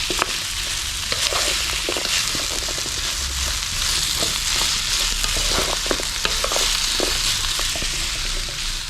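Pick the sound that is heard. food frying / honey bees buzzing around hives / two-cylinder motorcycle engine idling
food frying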